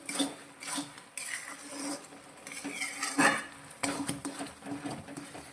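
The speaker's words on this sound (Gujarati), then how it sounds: "તો ખાંડનું પાણી બિલકુલ બળી જાય ત્યાં સુધી આપણે તેને આ રીતે હલાવતા રહીશું" A spoon scrapes and clanks against a pan while carrot halwa cooks down with sugar, giving irregular metallic knocks and scraping strokes at a moderate, close level.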